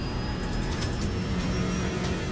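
A Boeing 727 jet engine roars steadily as the airliner accelerates down the runway for takeoff, a loud, continuous broadband rumble with a thin high whine, no voices present.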